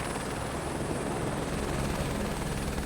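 Helicopter flying over the mountains of Lahaul and Spiti, a continuous dense rotor and engine roar heard steadily from inside the cabin, with no pauses.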